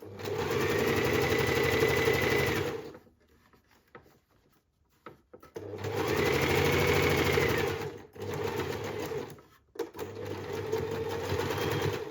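A sewing machine stitching down the middle of elastic shirring channels on fabric runs in steady buzzing bursts, stopping twice for short pauses in between, close and clear.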